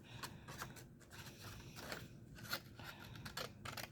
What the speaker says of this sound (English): I'm going to now cut a black line.